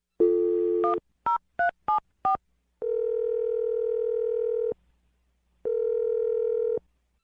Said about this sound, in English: All right, I'm going to dial his phone right now.